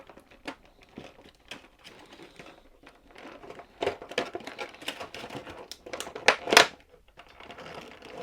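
Scissors snip and crunch through action-figure packaging, with crinkling plastic and sharp cutting clicks building to a few louder snips near the end.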